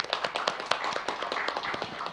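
Applause from an audience at a webinar ceremony welcoming a speaker to the stage, a steady patter of many hands clapping at moderate volume for about two seconds with no talk.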